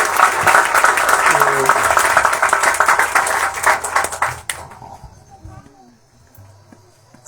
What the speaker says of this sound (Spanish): Damos un aplauso a la